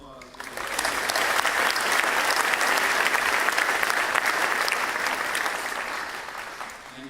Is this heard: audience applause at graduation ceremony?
yes